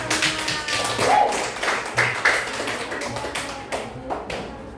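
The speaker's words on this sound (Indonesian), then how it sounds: "Tepuk tangan untuk kita" Classroom of mothers clapping together during an Indonesian religious lesson, a dense, fairly loud patter of many hands with irregular rhythm that thins out toward the end.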